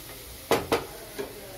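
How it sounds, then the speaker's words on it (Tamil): A few quick spoon scrapes and taps sound in a pan of frying cabbage with biryani masala, about three distinct strokes over a soft sizzle, close and fairly quiet. "இப்போ நல்லா கலந்து விட்டுக்கோங்க."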